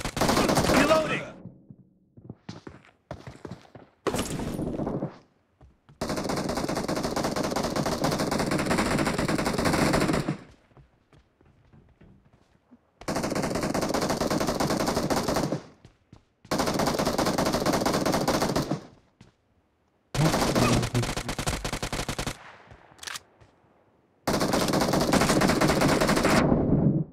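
Bursts of automatic gunfire from a team deathmatch video game, several sustained volleys separated by short silent gaps, loud and close, with occasional faint talk.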